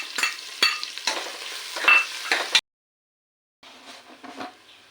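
Chopped onion frying with fennel seeds in oil for a tomato curry, close stirring scrapes over a crackling sizzle, then a second of silence before quieter stirring resumes.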